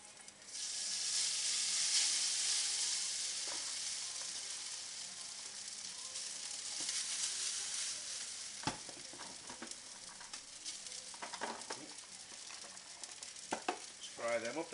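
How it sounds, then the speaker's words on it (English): Noodles fry in a pan with a constant loud sizzle and hiss, and occasional scrapes and clatters of stirring rise above it, with no voices. "first of all, I want to fry the noodles"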